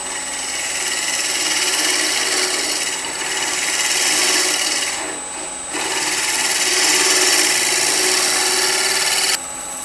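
A bowl gouge cutting wood on a spinning lathe while turning salt and pepper cellars, a loud close rasping hiss that swells and eases in long passes, with brief pauses between cuts.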